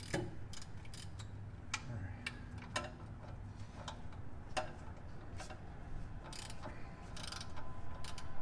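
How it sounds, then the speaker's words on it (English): A battery-powered ratchet works on Jeep Wrangler JK oil pan bolts, giving off rapid clicking bursts and clatter in short repeated spurts, close by and moderately quiet against a steady background hum. "Go get a battery powered ratchet to pull these off a little quicker"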